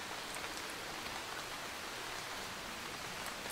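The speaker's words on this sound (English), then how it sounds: "I also hope that you enjoy the sounds of the rain." Steady rain falls with dense raindrops hitting surfaces, an even, continuous hiss at moderate volume with no other sounds.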